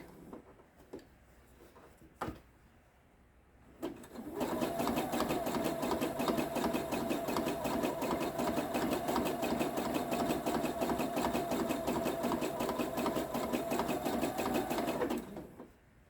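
A sewing machine runs a zigzag stitch along the edge of an oven mitt, starting after about four seconds of quiet handling and then whirring steadily and loudly for roughly eleven seconds before stopping.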